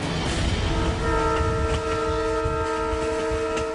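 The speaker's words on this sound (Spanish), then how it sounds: "Son los trenes más extremos del mundo." A train rumbles loudly with a sustained, multi-toned horn blaring throughout, close and continuous over heavy low-end rumble.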